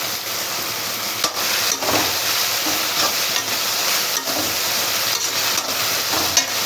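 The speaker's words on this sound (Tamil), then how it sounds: "தக்காளி நல்லா வதங்கணும் இதுக்கு தேவையான அளவுக்கு உப்பை போட்டுக்கிறேன்" Chopped tomatoes sautéing with salt in a pan for a prawn and banana-flower thokku, a steady sizzle of frying broken by repeated scraping strokes of a spoon stirring, close and alone without talk.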